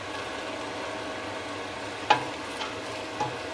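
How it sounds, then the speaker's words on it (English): Three chopped onions and six chopped garlic cloves go into a pan of cooking lamb for a tagine, giving a steady sizzle with a sharp clatter as they land and a couple of softer stirring knocks after. "Here we have 3 chopped onions and 6 chopped cloves of garlic, which we're going to add to our lamb now"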